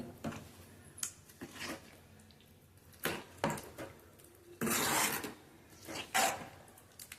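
Fruit custard ingredients being mixed in a bowl, a series of rasping scrapes and soft rubbing strokes of a spoon, fairly close and moderately quiet, with a louder scraping stretch near the end.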